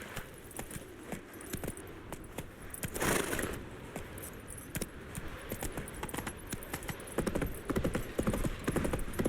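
Roach, Geralt's horse in The Witcher 3, gallops in a steady clip-clop of hooves with faint jingling tack, continuous and fairly close, with no voices over it.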